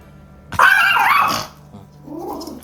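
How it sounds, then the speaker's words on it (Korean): A poodle barking, one loud sharp bark burst followed by a softer growling bark, close and alone with no talk. "실제로 얘가 저렇게 짖어버리면 진짜 다가가는 사람 없거든"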